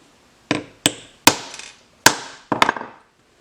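A punch is struck with sharp hammer blows to make a hole in a scrap PVC backer. Five loud, separate knocks ring close by, each with a short ringing tail and uneven gaps between them.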